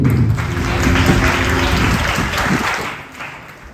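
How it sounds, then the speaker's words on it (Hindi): Strong, sustained applause from the audience at a cultural arts program of the Arpita Global Foundation, a thick roar of clapping that swells and then gradually tapers off toward the end. "तो एक बार जोरदार तालियां हमारे प्यारे दर्शकों के लिए।"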